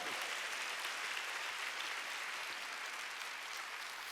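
A church congregation applauds during a Wednesday worship service, producing a steady, dense wash of clapping that is fairly faint and distant and continues without any talk.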